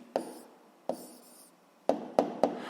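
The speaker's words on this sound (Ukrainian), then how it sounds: "Гаразд записуємо відповідь, пишемо відповідь." Pen scratching on paper as an answer is written down, five short strokes in quick bursts, close and quiet, with no voice.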